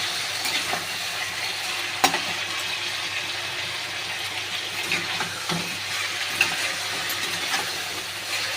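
Chicken and tomatoes for methi chicken frying in a pan, a steady broadband sizzle filling the whole stretch, broken by scraping and clinking strokes as the pieces are stirred, with a sharp knock near the two-second mark.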